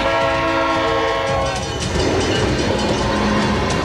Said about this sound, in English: Here comes the choo-choo.